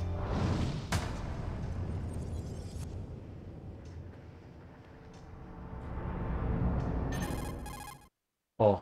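A telephone rings in the video game Metal Gear Solid. Bursts of ringing come near the end, after a stretch of low rumbling game ambience and a whoosh. No voices are heard.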